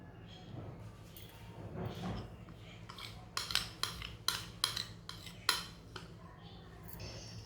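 Egg and milk-dissolved yeast batter stirred in a bowl for burger buns: a run of close clinking taps of a utensil against the bowl, preceded by quieter handling sounds and faint voice.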